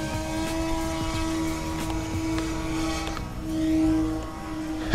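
An E-flite Turbo Timber X RC plane hangs in a low-level hover, its electric motor and propeller giving a steady buzzing drone with small rises and dips in pitch, moderately close and without talk.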